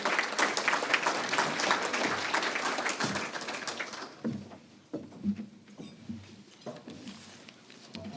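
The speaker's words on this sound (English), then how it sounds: "Please give him a round of applause as he comes forth." Audience applause fills a room at an awards luncheon, loud dense clapping for about four seconds that thins into scattered claps, with murmurs and low voices mixed in.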